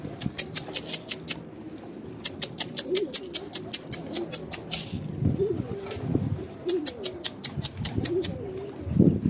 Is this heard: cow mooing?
no